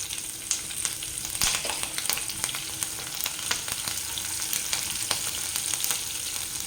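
Green chillies fry in hot oil with a dense, steady sizzle full of crisp crackles and sharp spluttering pops, close and lively throughout, with no one speaking.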